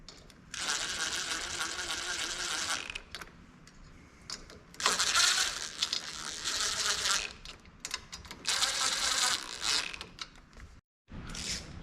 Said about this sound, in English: Sure, 1/4 inch ratchet